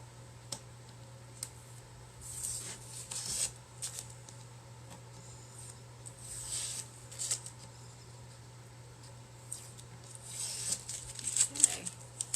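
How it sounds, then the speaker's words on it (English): Stencil tape peeled from a wood mirror, giving a series of light crackling strips and soft ticks spread through the stretch, some louder than others, over a faint steady hum with no speech. "I'm going to take our tape off."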